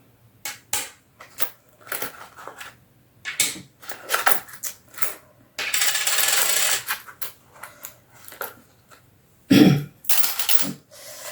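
Coins clink and clatter in short bursts, dropped one after another into a small dish, with a longer rattle in the middle.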